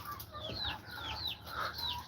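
Chickens kept in a quarantine pen for sick birds on a farm cluck and chirp repeatedly in short, rising calls, moderately close with steady background noise and no talk.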